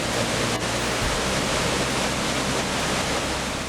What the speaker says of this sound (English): I can hear water flowing through creeks and streams, coming from the highlands and gushing to form the beautiful waterfalls and the turbulent rivers